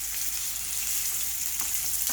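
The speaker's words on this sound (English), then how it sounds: "So we are going to go ahead and put them in the pan. Nice and sizzling." Pork chops fry in a hot pan with a dense, steady sizzle that is loud and close and lasts the whole stretch, with faint crackles and no talking.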